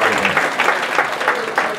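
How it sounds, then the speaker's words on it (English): A church congregation at a Sunday service gives a steady round of clapping in praise, a continuous wash of many hands with crowd voices mixed in throughout. "God, a hand clap of praise."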